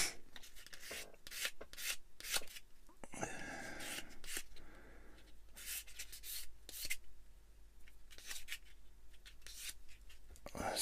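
Small file rasping seams off plastic model kit parts, close and quiet, in short repeated scraping strokes with brief pauses between bursts and a longer softer rub partway through.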